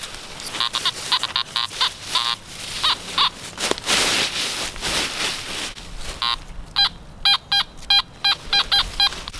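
Metal detector sounding loud, repeated warbling beeps over buried iron strapping at a 1700s roadside site in New Hampshire, the tones coming in rapid bursts over outdoor rustle and digging noise.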